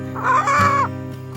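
A chicken on a hillside farm in the hills of northern Thailand gives a single drawn-out squawking call, rising then falling, close and clear over quiet background.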